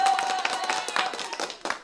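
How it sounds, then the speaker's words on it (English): Brief clapping during an online talk show, a few hands slapping in an uneven rhythm, fairly close and moderately quiet, with a faint steady tone in the background. "another round of applause for you"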